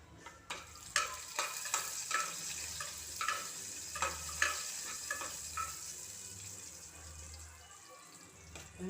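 Cinnamon and dried red chilies frying in hot oil in a pan, a steady close sizzle with repeated stirring scrapes and clinks of a spoon against the pan.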